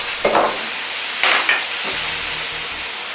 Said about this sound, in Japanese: エビとイカを入れ合わせます。